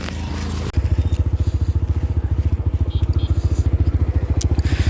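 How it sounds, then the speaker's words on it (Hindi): A new motorcycle's engine runs close and loud with a rapid, steady thumping beat that holds evenly after an abrupt start. "मैं बाइक चला के जाऊंगी और मैंने नया बाइक खरीदा ही है"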